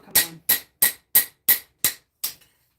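Seven sharp metallic hammer blows on a Japanese santoku kitchen knife blade being forged, struck in an even, steady rhythm, close and loud with nothing else heard.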